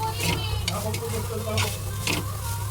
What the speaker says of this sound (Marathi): खोबऱ्याला आता मस्तपैकी असं व्यवस्थित आपल्याला तुपामध्ये स्टर करून घ्यायचं आहे